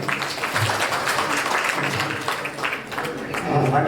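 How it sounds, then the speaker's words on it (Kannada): An audience claps for a donor at a birthday event honouring senior citizens in Damadahalli, a scattered, moderate round of clapping mixed with voices talking over it. "ಅವ್ರಿಗೆ ಚಪ್ಪಾಳೆ ಹೊಡಿ."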